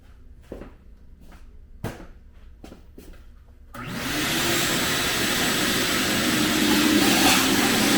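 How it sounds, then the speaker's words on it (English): A shop vacuum switches on and roars steadily while cleaning out the air box of a 90s Kawasaki KLX650R dirt bike, after a few light knocks and clicks; the motor whine stays loud and constant to the end. "now I'm going to take and just kind of vacuum out this air box"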